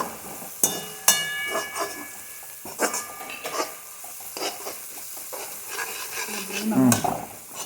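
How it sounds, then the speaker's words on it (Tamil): Ginger, garlic and green chilli stirred into a hot pan for an eggplant gravy, with a spoon scraping and clinking against the pan over a soft sizzle; close, irregular stirring strokes, no talking. "இஞ்சி பூண்டு பச்சை மிளகா போடுப்பா."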